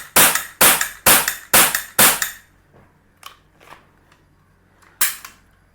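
A Camstar Star RX air gun fires five sharp, loud shots in quick, even succession, followed by a few faint clicks and then one more shot after a pause.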